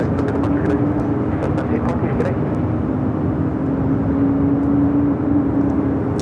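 A Delta Boeing 737-800 airliner takes off from Los Angeles airport, a steady low jet rumble with a faint whine, moderately distant, alongside clicking sounds early on.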